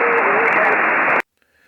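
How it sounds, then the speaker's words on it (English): Amateur radio signal relayed through the Russian RS-44 satellite during a pass, a steady band of hissing static with a faint carrier tone that runs loud and continuous for over a second, then cuts off abruptly to near silence. "What you just heard there was a pass of the RS-44 satellite, which is a Russian satellite carrying some amateur radio equipment."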